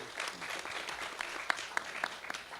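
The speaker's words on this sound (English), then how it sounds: "Give him a big round of applause." An audience at a draft constitution release event claps for a panelist, a fairly faint, steady patter of hands with a few sharper individual claps standing out near the end.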